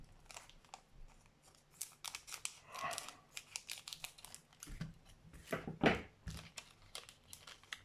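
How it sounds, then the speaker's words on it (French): Scissors snip and cut open a sealed Draftbox DB01 card display box, with close, irregular bursts of snipping mixed with crinkling and tearing of plastic wrap and cardboard, and no talking. "On va utiliser des ciseaux."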